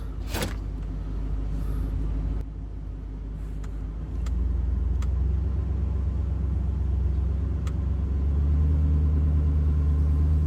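A Fox Body car idles in first gear with a steady, deep engine rumble that rises a little in volume partway through and stays low and continuous throughout.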